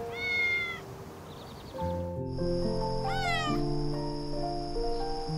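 Cats meow in a garden at night, several clear drawn-out meows near and loud over a soft background with sustained musical tones, and no talk.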